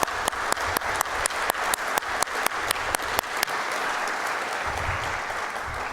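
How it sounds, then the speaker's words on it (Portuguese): An audience at a solemn legislative assembly session honoring physical education teachers applauds a man's mother. One loud clapper near the front beats a steady rhythm over the broad applause, then drops out while the crowd keeps clapping. "uma salva de palmas para a mãe do Ângelo Luiz Vargas"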